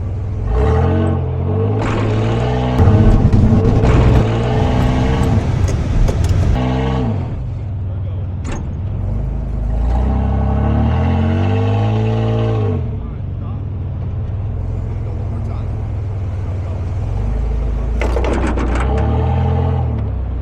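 A Jeep reversing on a beach, its engine revving in loud rising and falling surges with a steady rumble between them, as people talk over it.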